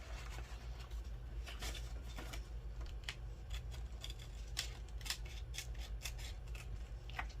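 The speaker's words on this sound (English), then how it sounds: "Small pair of scissors, and we just go around the line." Small scissors snip steadily around a drawn line on paper for a mini tissue-box journal craft, giving a close, quiet run of crisp irregular cuts with no talking.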